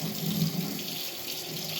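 Tap water runs steadily into a sink during hand scrubbing with soap, a continuous close splashing stream with no talk.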